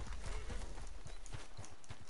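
Horse hooves clip-clop in a quick, steady rhythm in the video game Red Dead Redemption II, a close, continuous run of hoofbeats with no talking.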